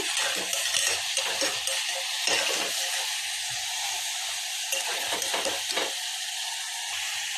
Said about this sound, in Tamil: தக்காளி நல்லா வணங்குற வரைக்கும் நல்லா மிக்ஸ் பண்ணிக்கிட்டே இருங்க.